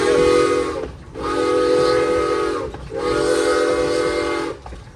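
A 100-year-old Cumbres & Toltec steam locomotive sounds its whistle in three long, loud blasts with brief gaps between them, rich in harmonics and close by.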